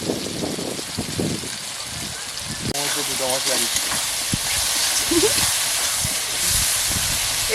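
Spices, tomato and fish curry sizzle and hiss in a pan, a steady frying crackle running throughout with louder bursts after a stir, while a voice speaks over the cooking.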